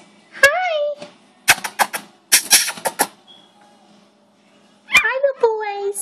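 Shih Tzu puppies nearby let out high, rising whimpers and short yips, broken up by quick clicking and scratching sounds, with quiet gaps between bursts.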